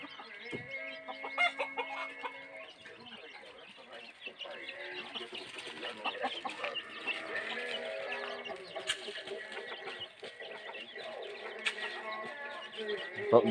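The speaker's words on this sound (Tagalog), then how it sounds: "Oh, labing isa po yung sisiw." Chickens and a brood of eleven chicks clucking and peeping at a farmyard in the Philippines, a steady busy chatter of small calls with occasional louder clucks and a voice speaking over them.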